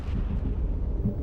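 Explosions like quarry blasting set milliseconds apart, heard as a continuous low rumbling roar with no distinct peaks, steady and heavy for the whole short stretch.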